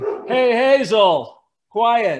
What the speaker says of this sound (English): that's my dog barking back there